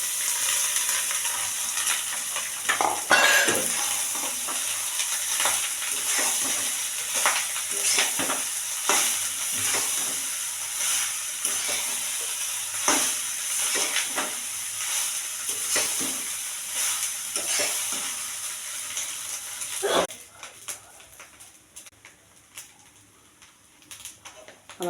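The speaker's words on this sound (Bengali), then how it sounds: "আমার বাসি ভাত ভাজাটা হয়ে গেছে" Leftover cooked rice fries with green chilli and salt in a pan, a steady close sizzle broken by repeated scrapes and stirs of a spoon, until the frying cuts off near the end and quieter clatter remains.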